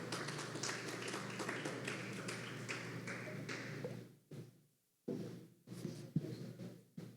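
Church congregation standing and applauding: rapid, dense clapping for about four seconds that cuts off abruptly, followed by quiet and a few scattered taps and thumps.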